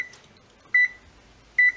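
An oven control panel gives two short, bright electronic beeps, evenly spaced and close, as preheat is set for baking chocolate chip cookies, with a quiet room otherwise.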